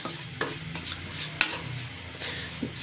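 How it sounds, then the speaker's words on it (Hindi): Spiced potato filling for samosas is stirred and cooked in a pan over a low flame, giving soft scraping and a few clinks of the spoon against the metal under a faint sizzle. "इसे मिक्स करेंगे, थोड़ा सा पकाएंगे।"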